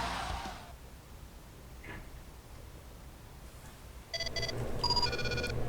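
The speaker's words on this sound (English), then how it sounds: "Phone's blowing up again." A phone rings in a WWE wrestling game, entering near the end as a bright repeated electronic trill over faint low background noise.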